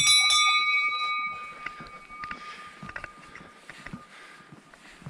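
A bell ringing on a hiking trail in Kamikochi, Japan, a bright metallic ring at the start that fades out, followed by footsteps and faint outdoor sounds.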